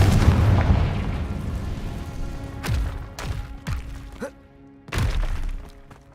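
Confringo blasting spell explosions in the video game Hogwarts Legacy: several sharp, separated blasts with crackling, shattering tails, one roughly every second, over a fading rumble and a faint sustained magical tone.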